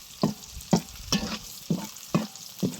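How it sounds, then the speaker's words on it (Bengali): Bautta greens fry and sizzle in a pan before shrimp is added, with a low continuous hiss broken by rhythmic stirring scrapes about twice a second, close by and without talk. "একটু হালকা ভাজা ভাজা হলে চিংড়ি মাছটা দিয়ে দেবে।"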